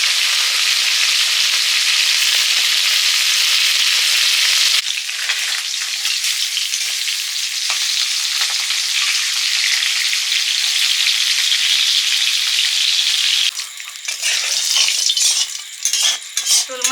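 Shol and magur fish sizzle steadily as they fry in a pan, a loud, dense hiss that runs throughout, with occasional clinks and scraping of a utensil, no voices.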